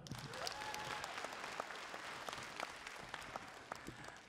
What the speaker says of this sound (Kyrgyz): Арсенге кол чабуулар.